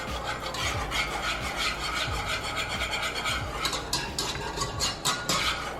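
A whisk scrapes rapidly and rhythmically against a pan through a Parmesan cheese sauce, a close, loud, continuous rasping with regular strokes and no talking.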